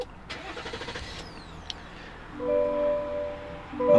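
A 2022 GMC Sierra 1500 AT4 with Duramax diesel engine starting from a push button: a few clicks and chimes, then the engine cranks and settles into a steady idle.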